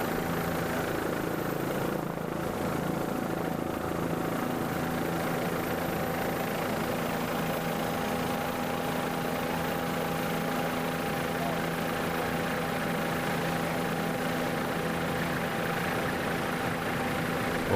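Offshore powerboats in a grand prix race off the Suncoast near Lido Beach, each with an identical 2.5-liter Mercury outboard, a steady droning engine roar that holds level throughout with a faint tonal whine.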